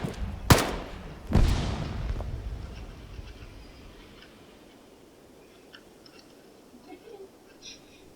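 Two sharp, loud gunshots in the Arma 3 military shooter, about a second apart with echoing tails, followed by faint distant shots and quiet background noise.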